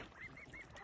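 Faint, nasal honking calls repeat in a brief, rapid series, distant and muffled under a steady background wash.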